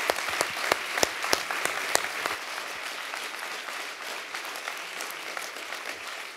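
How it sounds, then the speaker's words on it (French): Applause and a standing ovation from an audience at Spring Campus 2022, opening with sharp, distinct claps that swell into a sustained, even round of clapping and then ease slightly toward the end; no talking. "il y avait des beaux applaudissements"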